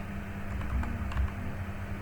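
A few soft keyboard taps, clustered near the middle, over a steady low electrical hum; no voices.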